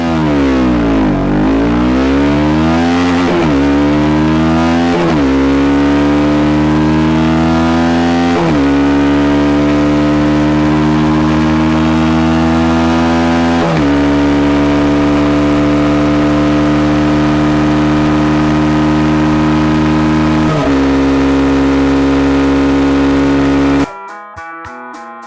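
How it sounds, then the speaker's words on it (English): A KTM Duke 125 motorcycle engine revved repeatedly while stationary, each rise climbing to a high-pitched buzzing wail before dropping back, loud and close, with about half a dozen successive rev sweeps before cutting off abruptly. "As you build the revs, the motor also starts to sound even better."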